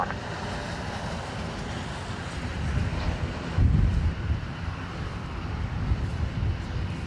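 Steady wind roars across an open airfield at Dublin Airport on a gusty day, a broad low rumble swelling in a stronger gust midway and buffeting the microphone throughout, with no voices.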